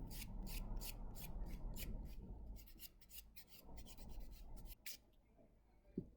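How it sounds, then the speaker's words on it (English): Gel polish top coat being buffed off fingernails with a file, a steady close rasping in quick repeated strokes that slows and thins toward the end, with no talk over it. "So basically you're just buffing off the top coat."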